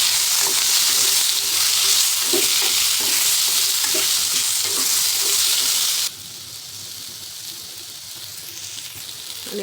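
Thalipeeth, a fasting flatbread, fries in ghee in a pan with a loud, steady sizzle and crackle that drops abruptly to a softer hiss partway through, as if covered.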